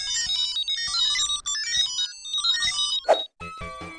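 Tinny electronic beeps and jingles from a McDonald's Sonic LCD handheld game toy: rapid bleeping melodic tones in a busy chiptune pattern, loud and close, with a brief burst of noise near the end.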